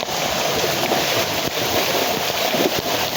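Floodwater pours across fields after heavy rain in Umej village, Una, a constant dense roar of flowing water close by, occasional faint knocks underneath, no one speaking.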